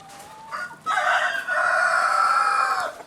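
A rooster crows loudly nearby, a long drawn-out call, with brief clucking from chickens just before it.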